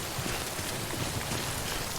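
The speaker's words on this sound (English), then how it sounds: "It's not just regular rain, it's literally raining time." Steady rain falling across the scene in the video game Death Stranding, a dense, even hiss of drops holding at the same level throughout with no voices.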